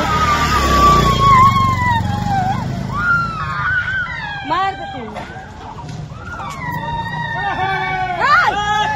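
A motorcycle rumbles and pulls away past a crowd of onlookers, its low engine note fading under loud shouting, screaming voices and general hubbub.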